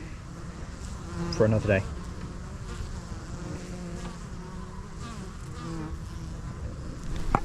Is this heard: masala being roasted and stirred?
no